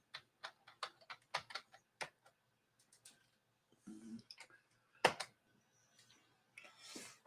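Soft, close taps of a computer keyboard as a password is typed to log in on a Mac running Linux, a quick run of separate keystrokes followed by a few scattered clicks and a faint breathy sound.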